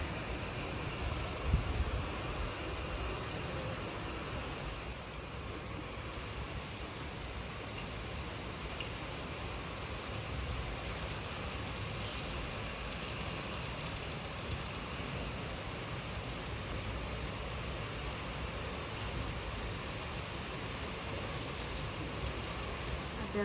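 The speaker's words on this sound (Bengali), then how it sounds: "দেখো বিশাল জোর বৃষ্টি হচ্ছে, আর ভালো হাওয়া দিচ্ছে" Heavy rain pours steadily onto a balcony, a dense, unbroken hiss of drops with no letup across the stretch, wind adding to the wash, and no voices.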